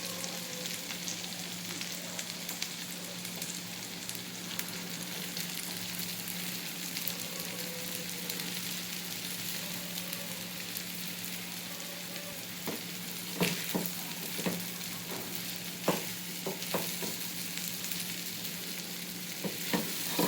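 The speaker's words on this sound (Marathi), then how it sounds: "पाच मिनिटाला फास्ट गॅसवर परतूया आपण" Soaked sabudana and potato are sautéed over a high flame, making a steady low sizzle with a constant hum beneath it, then scraping and tapping of a spatula stirring the pan in the second half.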